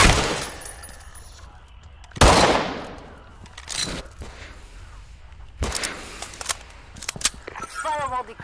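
Video game gunfire: loud single cracks and short rattling bursts come at irregular intervals, some sharp and close, with quiet stretches between them and a voice briefly heard.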